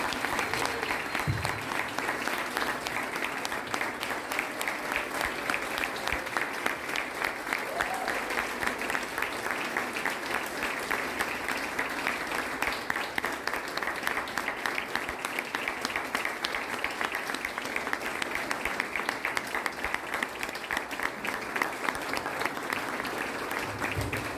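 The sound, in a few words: applause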